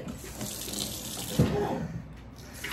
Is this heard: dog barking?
no